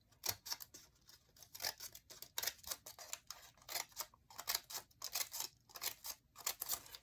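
Scissors cut through folded paper in a quick series of crisp snips and slicing strokes, close and fairly quiet, repeating in uneven bursts with no talking.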